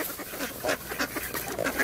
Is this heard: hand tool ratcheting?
no